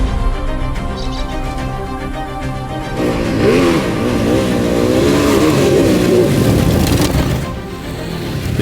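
A Ducati motorcycle engine revs and pulls steadily while riding through wooded country, with rising and falling pitch as the rider accelerates, loud and continuous throughout.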